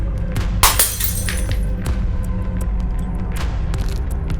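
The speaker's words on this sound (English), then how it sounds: "Sometimes the glass they were holding would slip from their hand." A glass slips from a hand and breaks with a sharp shattering crash, followed by scattered tinkling fragments over a low steady hum.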